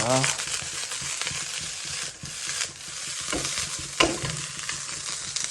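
Potatoes and fried rice fry in a pan, a loud, continuous sizzle with stirring scrapes and a brief clatter of the utensil partway through.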